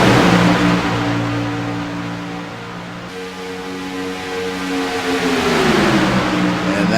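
Race cars roar down the front stretch at Daytona International Speedway, a loud sustained engine drone that dips and swells again as the pack passes by.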